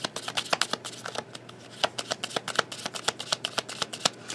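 Tarot cards being shuffled and drawn, a rapid run of crisp paper flicks and riffles close by, coming in quick irregular bursts with no talking.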